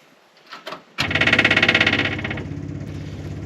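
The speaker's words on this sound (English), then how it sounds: "we're gonna turn on the fuel pump, crank her up." A cold 73-year-old stock hotrod engine, unstarted for months, turns over with a few starter clicks, then catches with a rapid pulsing crank and settles into a loud, steady, slightly lumpy idle nearby.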